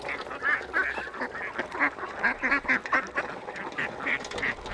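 Several ducks quacking close by in busy, overlapping bursts, continuous and fairly loud.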